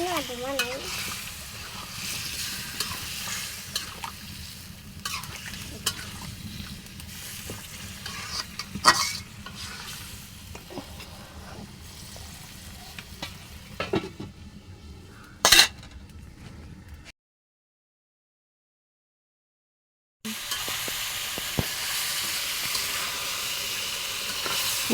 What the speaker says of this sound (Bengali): মাংসগুলো দিয়ে ভালোভাবে নাড়াচাড়া করে মাংসটা ভালো করে নাড়াচাড়া করে কিছুক্ষণ কষিয়ে নিব।